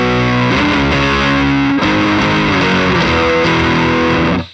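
An electric guitar runs through a fuzz pedal on a Line 6 HX Stomp in a dual-amp preset, giving loud, heavily saturated sustained chords that ring out alone and cut off at the end.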